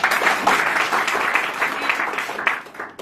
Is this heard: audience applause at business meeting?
yes